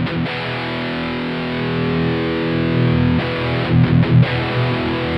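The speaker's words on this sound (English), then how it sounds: "Turning this up changes how the speakers physically move," A heavily distorted electric guitar plays sustained, chugging chords through a Peavey 6505+ 112 combo amp with its resonance control raised, giving a thick, boomy low end.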